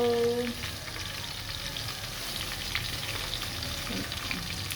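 Onions brown in hot oil for a matar pulao, sizzling steadily and close by, with faint stirring scrapes throughout.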